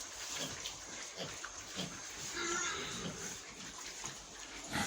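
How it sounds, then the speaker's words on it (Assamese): Four six-month-old pigs, three sows and a boar around 75 to 80 kg, grunt and shuffle in an indoor pen, with low snorts and rustling under a continuous wet, splashy background. "এইটো ৰুমতো বন্ধুসকল মই 4টা গাহৰি ৰাখিছোঁ"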